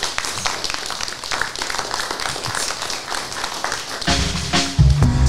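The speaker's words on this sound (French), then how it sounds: "Je pense qu'il mérite quelques applaudissements." Audience applause at the close of a French talk show on secularism, a dense wash of clapping that gives way near the end to music coming in loudly.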